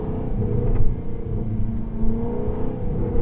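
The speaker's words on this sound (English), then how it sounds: "There's a certain RPM that you hit in this car that makes it make the loudest burble out of any other car." A 2023 Jaguar F-Type R Coupe holding about 3,500 RPM, its exhaust giving a deep, steady, close burble with low rumbling pulses and small surges in loudness.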